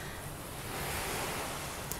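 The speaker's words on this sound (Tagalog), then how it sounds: "Ang walang katapusang karagatan." Ocean surf washing onto the shore in a steady, broad wash of water noise, with a little wind rumble mixed in, continuous and fairly loud with no voices.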